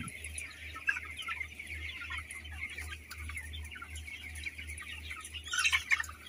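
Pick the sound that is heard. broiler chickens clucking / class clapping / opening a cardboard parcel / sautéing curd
broiler chickens clucking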